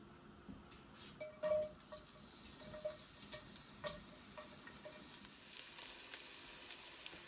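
Onions frying in olive oil in a Dutch oven over medium heat, a quiet sizzle with a few soft taps and stirring clicks, close but faint.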